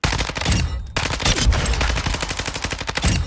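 Automatic fire from a Lachman 556 rifle in the video game Warzone 2 comes as loud, rapid bursts of shots in quick rhythmic succession, with a short pause before firing resumes, and no speech.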